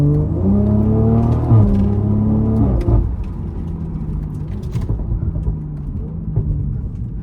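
BMW Z4 M40i with its B58 six-cylinder engine, rear-wheel drive, fitted with a downpipe, revving hard and close, loud rising engine note that drops off sharply, then settles into a steadier running drone.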